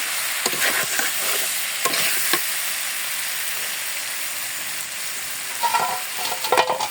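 Lightly fried potatoes being stirred with spices in a hot pan, a steady sizzle with scattered scraping clicks from the spoon, close and fairly loud.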